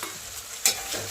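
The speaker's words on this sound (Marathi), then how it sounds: "मस्तपैकी फ्राय करून घ्यायचं," Potatoes fry in a pan for aloo matar pulao, giving a soft steady sizzle with one brief sharp scrape of stirring near the end.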